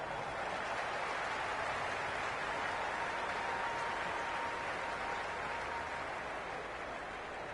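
A crowd in the stands of a Cricket 26 video game match makes a steady, distant roar of cheering and clapping that stays even throughout.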